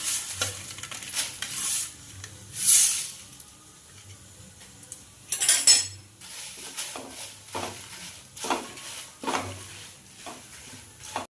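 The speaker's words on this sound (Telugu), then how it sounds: "ఒక చిన్న స్టవ్ మీద పెట్టి మిరపకాయలు దూరగా వేయించుకోవాలి" Red chillies dry-roasted without oil in a small pan on a stove, with intermittent scraping and rattling as they are tossed, louder bursts between quieter pauses.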